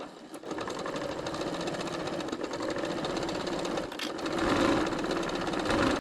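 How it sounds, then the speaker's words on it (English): A sewing machine runs a continuous quarter-inch seam around the edges of fabric for a small basket, a steady close rapid mechanical whir that stays even throughout. "we're just going to sew about 1/4 inch all the way around"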